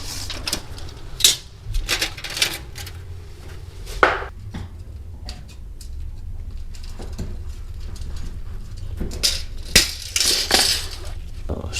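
Snips clip metal drywall corner bead in a garage, giving a series of sharp metallic snips and clinks at irregular intervals, some close and bright, with low background hum between the cuts.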